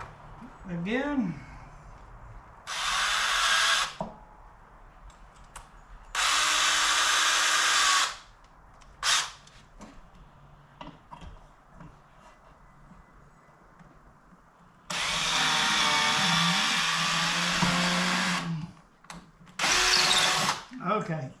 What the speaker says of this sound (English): Okay, I'll have to use my drill